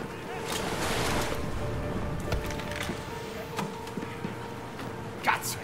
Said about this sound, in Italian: L'acqua si sta alzando!